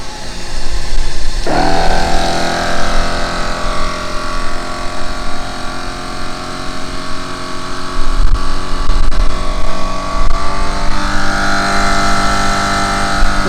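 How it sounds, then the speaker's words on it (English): A Maxi Trac portable air compressor inflates a flat car tire while the car runs, a loud steady mechanical buzzing drone with a humming engine underneath, shifting in pitch partway through. "Compressor's hooked up to the flat tire, up to the car."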